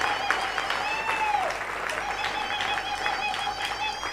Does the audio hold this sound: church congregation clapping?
yes